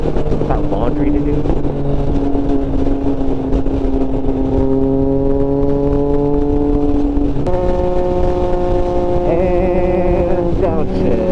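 A 2024 Triumph Street Triple 765 RS motorcycle downshifting with a quickshifter on the road: a loud, close engine drone steps through gears with abrupt pitch changes over heavy wind noise.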